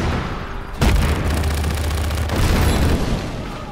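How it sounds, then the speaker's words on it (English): Grenade blasts in the open-world action game Just Cause 3, a loud deep boom landing near one second followed by sustained rumbling and crackling debris, with a second swell of blast noise later on. "Throw two grenades on time."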